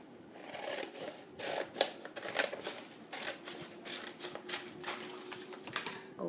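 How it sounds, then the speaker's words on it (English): Scissors cut paper along a drawn line for a craft triangle, making a soft, quiet series of repeated crisp snips and rustles in a steady, uneven rhythm, without speech. "Now I'm going to cut along the line."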